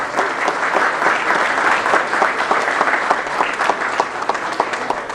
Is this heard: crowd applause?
yes